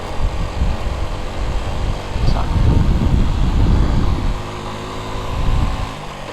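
A motorbike engine strains uphill in second gear at low speed on a mountain road, a steady droning growl that swells and eases with load, loud and close.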